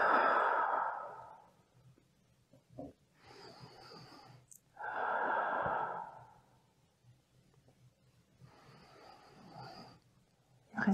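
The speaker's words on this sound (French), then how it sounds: "Respiration bien profonde par le ventre, ça aide réellement." Slow, deep belly breaths during a hip and spine exercise session, with long audible exhales alternating with quieter inhales in a calm room, close to the microphone and with no talk.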